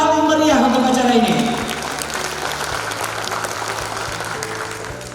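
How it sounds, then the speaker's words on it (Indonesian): Crowd applause at a formal inauguration ceremony, steady clapping from many people that continues after a voice and music fade out early, gradually softening toward the end. "angkat ke atas dan berikan tepuk tangan yang paling meriah untuk acara ini."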